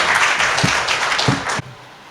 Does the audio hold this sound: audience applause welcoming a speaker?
yes